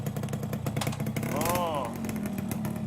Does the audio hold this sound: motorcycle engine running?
yes